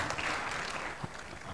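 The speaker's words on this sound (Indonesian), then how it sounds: "Tepuk tangan" Applause from the audience at a Makassar city planning meeting attended by council members, a dense continuous patter of hands filling the hall at steady volume.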